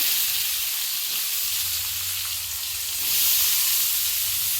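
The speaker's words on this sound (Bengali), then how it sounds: "এবার আমি সবজিগুলো একটু ভেজে নেব মূলো বেগুন টমেটো সব একসাথে দিয়ে ভেজে নেব" Radish, eggplant and tomato fry together in a pan, giving a continuous hissing sizzle that holds steady and swells slightly near the end.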